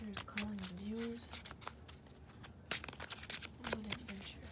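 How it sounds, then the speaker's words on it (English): Tarot cards being shuffled by hand, a soft papery riffle and slide that runs steadily throughout, close and quiet, with a person talking over parts of it. "I'm going to move this while I shuffle."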